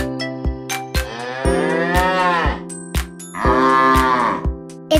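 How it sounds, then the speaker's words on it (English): Cow mooing in two long, loud drawn-out calls over a steady farm background with regular percussive knocks, no talk. "Moo, it's a cow."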